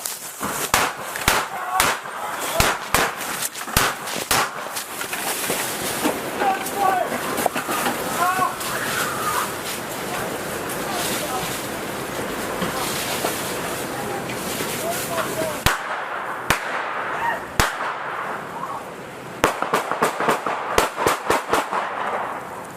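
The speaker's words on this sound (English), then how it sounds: "gunfire echoed through the neighborhood" Gunfire crackles through a neighborhood on police bodycam footage, with sharp cracks in irregular bursts over chaotic shouting and talk, and a few more scattered shots after a brief lull.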